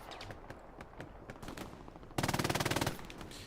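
Machine gun fire in a battle video game: a rapid burst of about fifteen loud, evenly spaced shots lasting under a second, preceded by scattered distant gunshots and faint background action.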